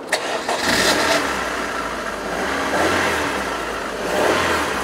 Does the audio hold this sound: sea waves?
no